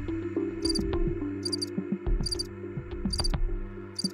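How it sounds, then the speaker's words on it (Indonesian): Crickets chirp from behind bushes in a steady, layered insect chorus, with bright pulsed bursts repeating about once a second over a continuous drone, heard alone. "Itulah suara jangkrik."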